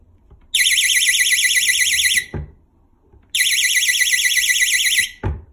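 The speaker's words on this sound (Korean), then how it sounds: "일정 거리로 떨어졌을 때 강력한 경보음이 발생하게 됩니다" A magnetic door alarm blares twice in loud, warbling electronic bursts of about two seconds each, separated by a short pause with clicks of the door.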